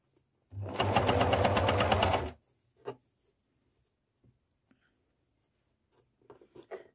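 A sewing machine runs in one steady burst of about two seconds while backstitching at least three stitches to lock a hem on a skirt being remade into harem trousers, followed by small handling clicks and rustles.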